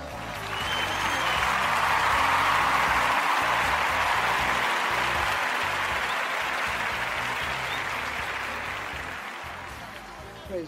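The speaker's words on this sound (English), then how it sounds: "Let's give the woman of God a hand clap of praise." A church congregation applauds together during a gospel radio broadcast, a dense, sustained wash of clapping that swells quickly, holds steady for several seconds, then slowly thins out toward the end.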